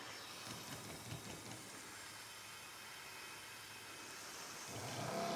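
Softwash pump spraying water that escapes through a small pinhole leak, a steady broadband hiss filling the clip, growing slightly louder near the end with no talking.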